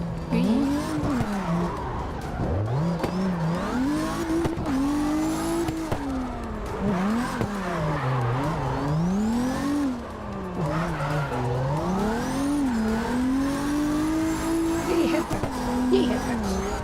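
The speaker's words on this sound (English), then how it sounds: "Let's try slow drifting." Car drifting in CarX Drift Racing Online, a high-horsepower engine droning steadily with rising and falling pitch and continuous tire squeal throughout, loud and close, with a voice talking over it at times.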